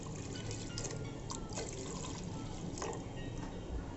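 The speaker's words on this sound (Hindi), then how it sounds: "इसके अंदर हम पानी मिक्स कर देते हैं" Water is poured from a glass into a cooking pot while making mutton khichda: a loud, continuous splashing rush that fills the whole stretch without pause.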